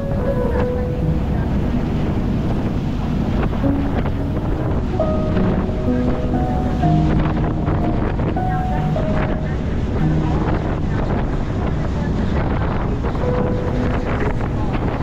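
Excursion boat pulling away from a cruise ship on a fjord cruise, with steady wind buffeting and rushing water, a fairly quiet engine and faint distant voices under the constant noise.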